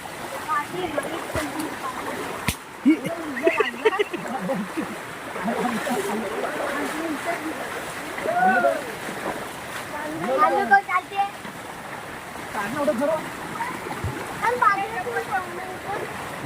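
Flowing stream water near a waterfall rushes steadily in the background while several people talk and call out over it outdoors.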